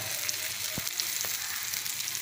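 A thick Chettinad prawn gravy, oil separating at the edges, bubbles and hisses in a pan as it is stirred, a constant close sizzle broken by two soft scraping strokes of a spoon.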